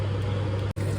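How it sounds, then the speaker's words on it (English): An old kitchen extractor fan runs with a steady low hum and broadband whoosh, close and continuous apart from a brief dropout near the end, with no talk. "That's the old extractor fan"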